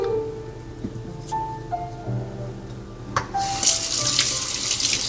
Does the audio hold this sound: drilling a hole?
no